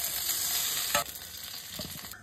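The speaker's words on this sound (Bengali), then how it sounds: "এই তেলেতেই আলুগুলো দিয়ে দেবো," Potatoes fry in oil with salt and turmeric, giving a steady bright sizzle throughout, with a brief louder crackle as they go in and a few soft stirring knocks near the end.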